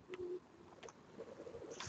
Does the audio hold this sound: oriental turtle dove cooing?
yes